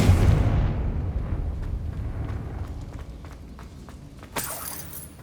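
A Confringo spell explodes in Hogwarts Legacy with a heavy, booming blast that rolls off and decays over several seconds, followed by light clatters and a sharp bright crack near the end.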